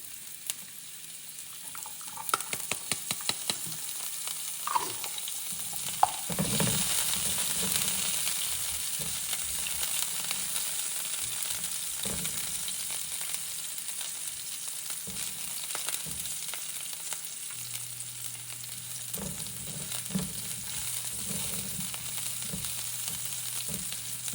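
Minced garlic and thyme fry in a pan with a steady close sizzle, broken by scraping stirs and a few clanks from the pan.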